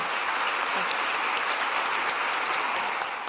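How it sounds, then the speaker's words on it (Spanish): Audience at a Spanish-language wellness talk gives a strong, sustained round of applause, a dense even wash of many hands clapping at once with no talk over it. "un muy, pero muy fuerte aplauso, por favor, para Carolina Casiano"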